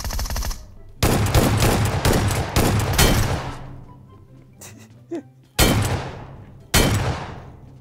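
Gunfire in the battle-royale shooter PUBG Metro Royale: several loud, close bursts of automatic fire in rapid succession, with short gaps between volleys and a couple of separate single shots near the end.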